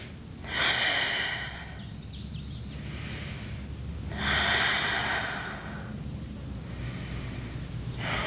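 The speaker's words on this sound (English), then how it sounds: "We'll breathe right here." Slow, deep breaths during a yoga stretch, drawn in and let out in long swells that repeat about three times, close and fairly quiet, with no talking.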